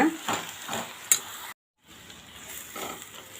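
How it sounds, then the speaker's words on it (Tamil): Spice masala for tomato kulambu sizzles softly in a pan while being stirred, with light scraping and clinks of a utensil, brief silence midway, then gentle frying resumes. "மசாலாலாம் சேர்த்து பச்சை வாசனை போக நல்லா வதங்கிட்டு இருக்கட்டும்"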